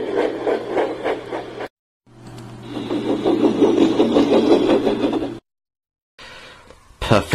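James the steam engine puffing away fast in a story sound effect, a rhythmic chuffing engine beat with a low hum, loud and close, broken by short silent gaps, with a voice talking over it.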